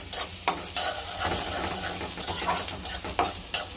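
Sliced onions hiss and crackle in a hot pan for a home lunch, the sizzle loud and close, punctuated by a few sharp scraping stirs of a spatula.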